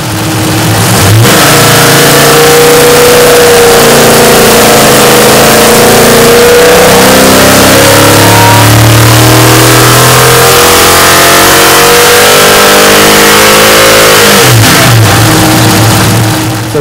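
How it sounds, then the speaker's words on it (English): A V8 fitted with an 830 CFM Holley double-pumper carburettor runs hard on a dyno, very loud and close, its pitch rising steadily through a long sustained pull and then dropping back, with brief blips at the start and end. "Let's hear this run on the dyno"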